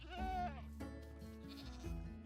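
Goats bleating in Minecraft, a couple of short wavering calls, close and fairly clear, with faint game ambience underneath.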